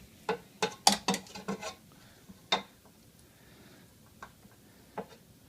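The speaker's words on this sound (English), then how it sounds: "scrape that back into the bowl so we don't lose any of it" A spatula scrapes banana nut bread batter off a mixer beater into a bowl, making a quick cluster of sharp clinks and taps, then a few scattered knocks after a pause, with no talking.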